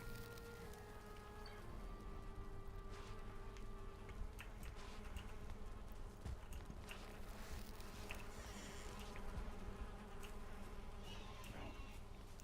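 A swarm of bees in a Viking-era video game buzzes steadily for the whole stretch, a dense, even drone with no pauses and no talk over it.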